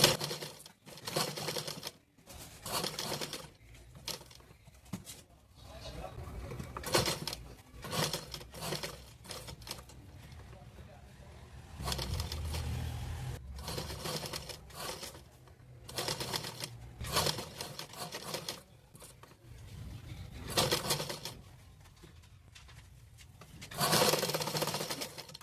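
A sewing machine stitching piping onto a patchwork blouse, running in close, steady bursts separated by short pauses, with fabric rubbing and handling between runs and a low motor rumble underneath.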